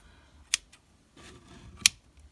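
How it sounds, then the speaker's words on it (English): Two sharp scissor snips trimming loose bracelet strings, each a brief crisp cut spaced about a second apart, close and clear with quiet handling noise between. "I'm just gonna trim these a bit shorter too"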